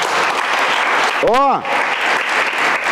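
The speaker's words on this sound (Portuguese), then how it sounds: "Dá um aplauso aí." A church congregation claps continuously during a Christmas sermon, the applause steady and fairly loud, interrupted midway by a brief drawn-out vocal exclamation over the clapping.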